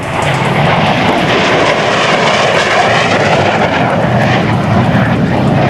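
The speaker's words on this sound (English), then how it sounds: "Pull it out on the runway. Pop that afterburner, shoot them up." A jet fighter takes off with afterburner lit at the 2004 NAS Oceana airshow, a loud, continuous, close roar that fills the whole stretch without letting up.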